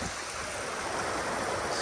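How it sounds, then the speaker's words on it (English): A mountain creek rushes nearby as a steady, loud broadband hiss of flowing water, continuous with no voices. "This is the creek."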